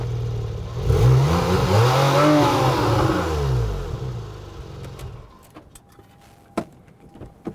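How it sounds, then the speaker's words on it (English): A car engine revs up loudly several times with rising and falling pitch, then fades, followed by a few sharp clicks and knocks. "Am I supposed to be impressed by like you revving the engine?"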